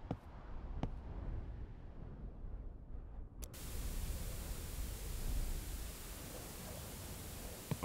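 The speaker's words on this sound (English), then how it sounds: "We all like white noise" Steady broadband white noise hiss fills the scene in the indie horror game Linger, loud and continuous after a brief quieter stretch with a few sharp clicks.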